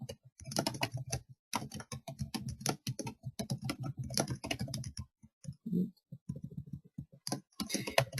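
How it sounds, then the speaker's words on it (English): Keys on a computer keyboard are tapped in quick bursts of close, crisp clicks, with a few short pauses between runs while a title is typed. "before you hit create offer, you want to type in your title"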